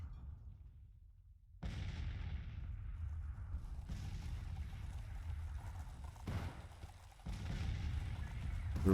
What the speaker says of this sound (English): Guns are firing.